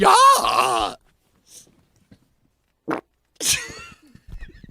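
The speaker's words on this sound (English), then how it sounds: "all your farts sound like they're happening in a well" A fart with a hollow, echoing tone, a short low blurt among other scattered bodily noises and voice sounds in a quiet room, close and fairly loud.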